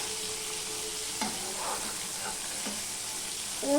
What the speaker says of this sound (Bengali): আমি আবারও মাছ দিয়ে দিচ্ছি